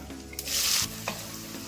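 Onions drop into hot oil with a sudden loud sizzle that flares for a moment, then settles into a quieter crackle, with no one talking.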